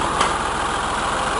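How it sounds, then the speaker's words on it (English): A tractor engine, at a round baler repair on a New Holland 847, runs with a steady, low, throbbing drone from start to finish, loud and close. "So we'll come over here and fire this tractor up."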